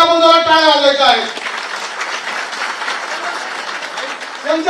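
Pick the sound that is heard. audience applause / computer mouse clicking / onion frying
audience applause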